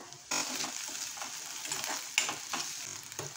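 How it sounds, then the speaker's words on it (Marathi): Curry leaves dropped into hot oil for shev tomato bhaji burst into a sudden loud crackling sizzle that settles into steady frying with sharp spatters and stirring, close up and without talk. "ह्याच्यामध्ये आपण थोडेसे कढीपत्ते ॲड करूया"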